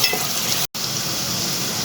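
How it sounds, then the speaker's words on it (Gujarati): Steady, close sizzling of ginger-garlic paste sautéing in a hot pan, with a brief silent gap midway before the frying hiss resumes. "હવે ફરી આપણે એને એક મિનિટ માટે સાતળી દઈશું"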